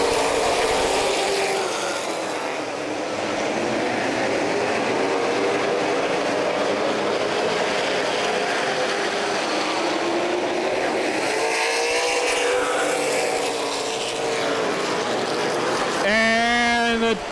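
Race cars roaring around Plymouth Speedway during a CRA Super Series race after the green flag, a continuous loud engine drone with rising and falling pitches as cars pass, an announcer talking over it.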